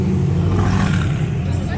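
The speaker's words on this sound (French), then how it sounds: "On a la Pista qui fait un bruit monstrueux avec l'AMG GTR" A Ferrari 488 Pista revs hard on a street in Juan-les-Pins with an AMG GT R close behind, giving a loud, steady engine roar that fills the whole moment while someone talks over it.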